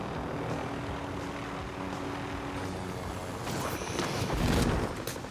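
Helicopter in a Call of Duty: Modern Warfare video game, a steady rotor and engine whir that swells louder near the end as it comes down to land, with no talking.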